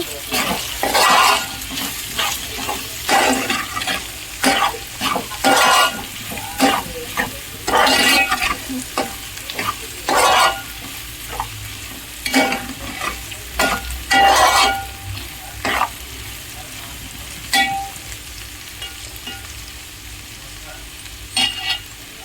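Ivy gourd stirred in a hot pan with turmeric, a steady frying sizzle broken by repeated sharp scrapes and clacks of the spoon against the pan, close and fairly loud, with no talking.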